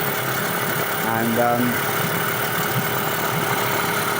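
A Suzuki 8hp outboard motor runs at a steady idle, a continuous mid-pitched drone at moderate distance, while someone talks briefly over it.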